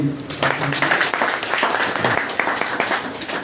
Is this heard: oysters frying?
no